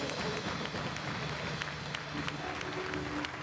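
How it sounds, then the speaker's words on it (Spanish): Church congregation applauding during a worship service, steady mass clapping heard throughout with crowd voices and a hum of music underneath. "aplauso a nuestro Señor resucitado"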